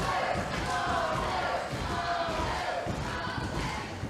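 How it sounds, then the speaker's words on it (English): Wrestling crowd cheering and roaring steadily to urge on a wrestler at a WAW Wrestling event, a dense, continuous wash of voices with faint commentary underneath. "The crowd again geeing up Marcus."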